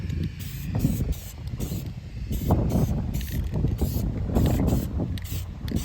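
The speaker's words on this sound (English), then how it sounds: "when you're spraying your canvas, poster board, whatever it is, make sure you cover it all" Oil-rubbed bronze spray paint hisses onto a painting canvas in a steady run of close, loud bursts with short pauses between them.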